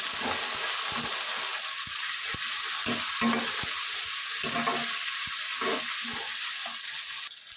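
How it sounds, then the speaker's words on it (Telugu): Tomatoes fry in a pan for a spicy Andhra country chicken curry, giving a constant bright sizzle punctuated by regular sharp spoon taps and stirring scrapes, close up and without talk. "టమోటాస్ని కట్ చేసి పెట్టుకున్నాను దాన్ని కూడా వేసి ఫ్రై చేసుకోండి"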